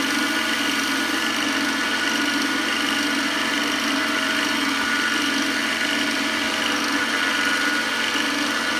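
A wood-turned pen spinning on a lathe is sanded with 1,000-grit sandpaper, giving a loud, steady motor hum and whir with a faint abrasive hiss throughout, no talking.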